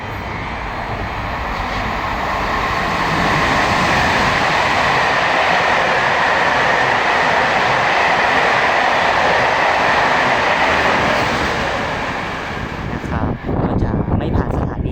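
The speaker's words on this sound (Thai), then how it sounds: "รถไฟมาแล้วนะครับ" A train passes through a station at high speed without stopping, with a loud, sustained roar and rumble that swells, holds, then drops away as clattering wheels fade out.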